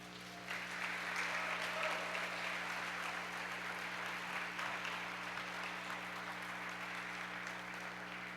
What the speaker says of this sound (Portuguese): Meu irmão, aplauda o Senhor.